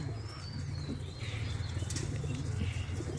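Pigeons from several clubs flap their wings at a race release by the sea at Inani, Cox's Bazar, making a rustling flutter over a steady low engine drone, with faint chirps and coos.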